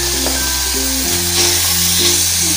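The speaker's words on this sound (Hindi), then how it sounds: "बस इनको ज़्यादा नहीं हमने फ्राई करना" Bell pepper, tomatoes and onions frying in a pan for chicken chow mein, a steady close sizzle with soft stirring, no talking.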